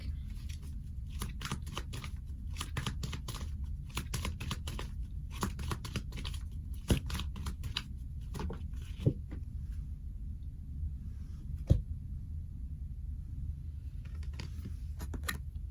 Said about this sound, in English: I'm gonna go ahead and pull a card from the other deck